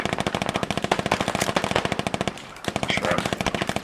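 Rapid, sustained machine gun fire in a video game, loud and close, rattling in fast evenly spaced bursts with a brief pause before the firing resumes.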